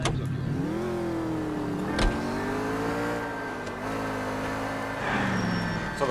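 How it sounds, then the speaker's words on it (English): A car driving in the video game L.A. Noire gives a continuous engine drone whose pitch rises and dips as it accelerates, with a brief knock partway through and no voices over it. "It's time for us to vroom in our fancy car."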